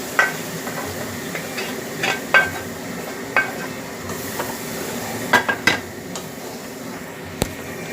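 Ingredients fry in a wok with ghee and oil, a continuous sizzle broken by sharp metallic clinks and scrapes of a spatula against the pan, close and fairly loud with no voices.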